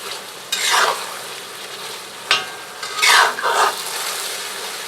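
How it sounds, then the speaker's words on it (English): Korean-style BBQ stir-fry sizzles in a cast iron wok on a wood cookstove, a steady hiss punctuated by several loud scraping stirs and a sharp clank of a utensil against the iron. "Should have known that sauce would start boiling again."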